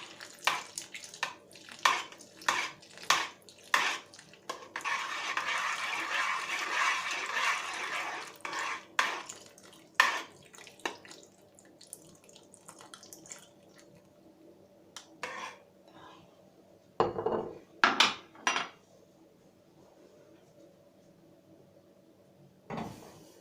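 Spoon stirring starch into fruit kissel in a pot, with scattered clinks and scrapes against the pot, a burst of faster stirring, then a few louder knocks; close and fairly quiet, no talk.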